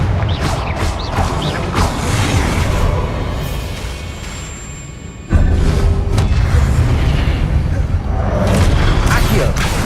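Confringo blasting spells exploding during combat in the game Hogwarts Legacy, with dense rumbling booms and a sudden loud burst midway. Voices are heard over the constant battle noise.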